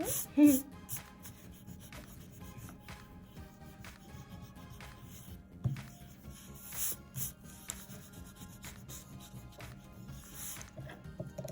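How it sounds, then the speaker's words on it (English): Pencil lines are rubbed off paper with an eraser in faint, close, scratchy strokes that come in irregular bursts, with a low background hum. "So I'm going to erase all of this"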